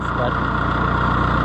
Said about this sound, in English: We'll shut the tractor off